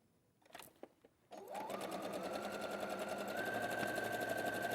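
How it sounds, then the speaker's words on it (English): A sewing machine runs steadily, stitching across hourglass quilt blocks after a few faint handling clicks; the motor hum is close, even and continuous for several seconds. "And I'm going to sew across."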